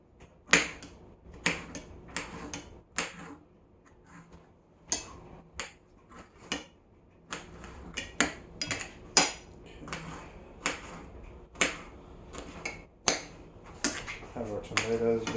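A knife cuts lengthwise through tomatoes on a cutting board for tacos, giving a run of sharp, separate taps and clicks at an irregular pace, close and fairly faint.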